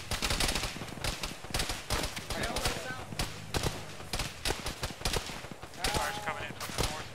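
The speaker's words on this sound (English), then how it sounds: "Fire's coming in from the north." Dense gunfire from a military shooter game session in ShackTac, with rapid bursts and repeated single shots cracking loudly throughout, some near and some further off, mixed with the players' voice chatter.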